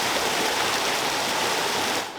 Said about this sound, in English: So you can see here the excess water flowing out of the canal at the moment.